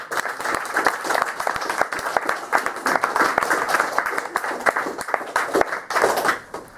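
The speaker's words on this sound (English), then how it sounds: "can we just give a round of applause?" Applause from an audience at a Q&A session on neoliberalism, capitalism and green politics fills the room, a dense patter of many hands with individual claps standing out, steady and fairly close before easing off at the end.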